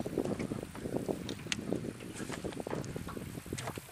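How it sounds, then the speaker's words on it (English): Steady wind buffets a fishing boat on a lake, a continuous rushing noise with low rumble and faint knocks of water or gear against the hull throughout. "the wind's constantly fighting me, pushing me towards the bank."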